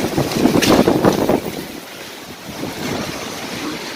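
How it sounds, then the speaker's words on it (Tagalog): A storm of wind and rain, with sand blowing in the U.A.E., roars as loud, rushing gusts buffet the microphone, then eases to a steadier, softer wash. "Umulan na po, umulan. Hangin."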